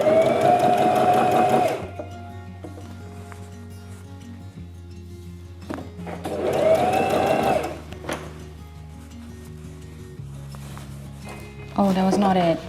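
A sewing machine stitches to gather a shirt in three loud whirring bursts separated by quieter pauses, with a person's voice talking during the gaps.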